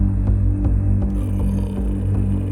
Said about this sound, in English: There's like this super low resonant sort of humming going on over here